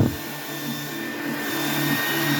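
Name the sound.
hair dryer blowing on cool setting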